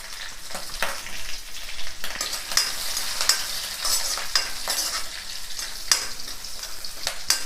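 Green and dried red chillies fry in hot oil with cumin seeds, crackling and sizzling close up, with frequent scraping stirs of a spatula against the pan and sharp pops scattered throughout.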